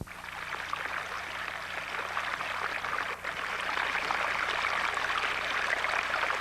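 A very cold, salty stream in Expedition Valley burbles steadily, a continuous close wash of trickling, gurgling water with no pauses or other sounds.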